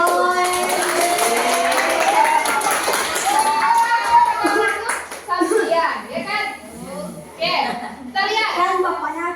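Children in a classroom religious lesson clap their hands in a quick, rhythmic burst that follows and mixes with a voice and nearby chatter.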